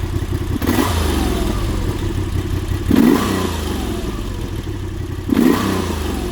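A stock 2025 Moto Guzzi V85 Strada motorcycle engine at close range, idling with a lumpy throb and blipped into three sharp revs, each rising briefly and then settling back to idle.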